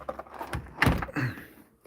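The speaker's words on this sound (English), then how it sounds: "I'll open the door for you." A door being opened: a short thunk with a faint rattle, close by and moderately loud, followed by a brief scrape as it moves.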